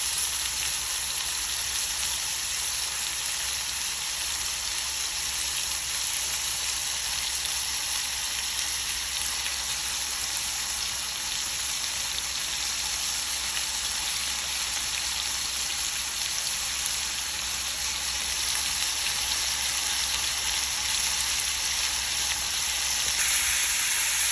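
Pork chops in a lemon and oats coating fry to golden brown in a pan, giving a steady, dense sizzle that holds at an even loudness the whole time, close up with no talking.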